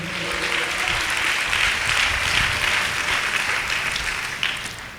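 A church congregation breaks into sustained applause during a Telugu worship service, a steady, dense wash of many hands clapping together for several seconds before starting to fade.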